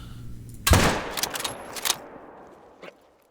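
A rifle shot fired at a moose in theHunter: Call of the Wild rings out as one loud crack with a long rolling echo across a valley, followed by a faint distant knock near the end.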